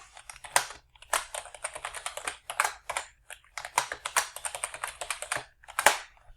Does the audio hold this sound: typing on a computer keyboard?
yes